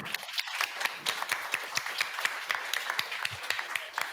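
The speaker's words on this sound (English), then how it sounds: "So I ask you a round of applause for it." An audience at a creative industries panel event applauds, a steady patter of many hands clapping at moderate distance, lasting a few seconds without voices.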